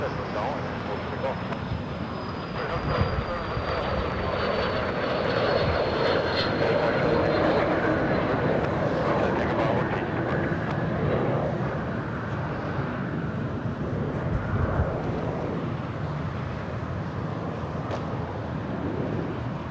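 Jet airliner taxiing at LAX airport, a steady loud engine roar with a whining tone that slowly drops, continuous throughout and mixed with faint radio chatter.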